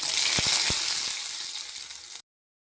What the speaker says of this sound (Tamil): இப்போது கடுகு சேர்த்துக்கிறோம்.